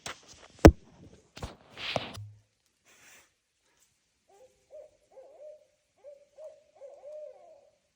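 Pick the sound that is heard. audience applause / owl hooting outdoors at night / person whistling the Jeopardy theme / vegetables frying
owl hooting outdoors at night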